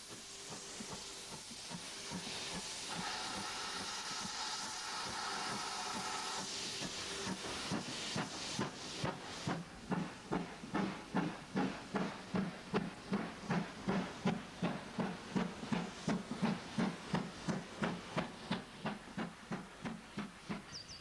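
A steam locomotive on the West Somerset Railway passes by, with a long hiss of steam at first, then rapid rhythmic chuffing that grows steadily louder and closer.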